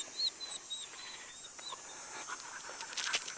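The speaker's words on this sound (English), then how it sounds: "If you hear panting, that's not me" A dog pants steadily in quick, breathy rhythm close by, with faint outdoor ambience and a brief brighter noise near the end.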